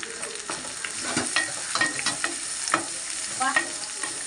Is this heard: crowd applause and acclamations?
no